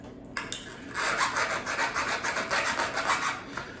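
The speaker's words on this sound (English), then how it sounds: "use a chainsaw file and just open that up a little bit" A chainsaw file rasps steadily back and forth against an aluminum flashlight part, close and continuous for a few seconds with no talking.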